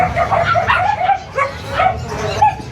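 Pomeranian dogs at a pet market yipping and barking in quick, high-pitched bursts, several overlapping close by with a faint whimper, amid busy market background.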